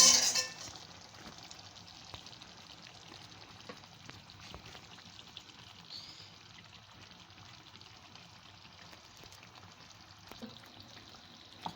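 Soft, continuous sizzling of tomato masala frying in a pan for chicken biryani, with occasional light stirring scrapes; fairly quiet and steady throughout.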